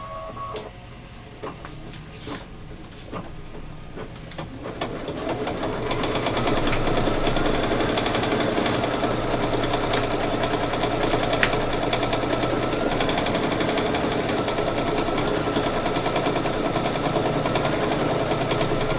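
An embroidery machine stitches a placement line. A few sparse clicks and taps come first, then the machine runs up into a loud, steady, rapid mechanical chatter with a constant hum that lasts to the end, with no talking.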